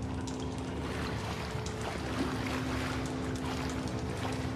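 Game character wading through water in the sewers of the horror game Outlast: continuous sloshing and splashing with a low rushing wash, steady and fairly close throughout.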